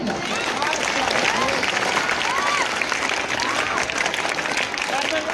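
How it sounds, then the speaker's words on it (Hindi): Steady, fairly loud clapping fills a school hall at a Children's Day event, an audience welcoming the children, with scattered voices and chatter mixed in across the applause. "तो इन बच्चों के लिए एक स्वागत के रूप में स्कॉट ताली बजाएगा"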